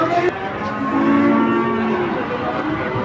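Huge jumbo cow with a thick muscular neck at a cattle sale in Indonesia gives a loud, deep, sustained moo close by, preceded by a short sharp knock, with no talking.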